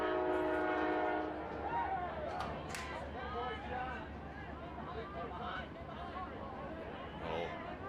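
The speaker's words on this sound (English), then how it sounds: "As the train goes by here in the background." A train sounds a sustained horn blast at a distance beyond a boys' high school soccer field, its rumble continuing under steady crowd chatter and an announcer's voice.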